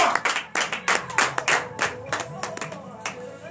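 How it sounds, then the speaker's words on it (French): A church congregation at a morning prayer service in Benin claps in acclamation, about a dozen sharp, loud hand claps in an uneven rhythm over three and a half seconds, with no voices over them. "Seigneur Jésus, donnez l'acclamation à notre Seigneur Jésus."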